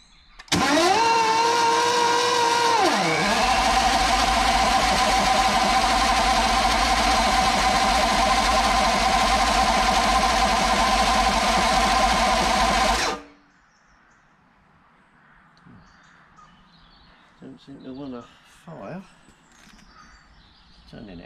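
A Velocette Venom motorcycle engine is turned over by a paddock roller starter: a loud, steady cranking drone with a brief pitch dip early on runs for about thirteen seconds, then cuts off, leaving a quiet background with a few faint knocks.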